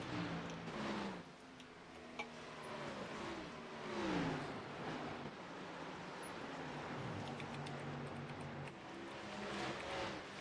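A NASCAR Xfinity race car at speed on Nashville Superspeedway, sponsored by James Wagoner Welding and driven by Matt Barker, gives off a continuous engine drone that rises and falls in pitch as it runs through the turns, steady and moderately distant.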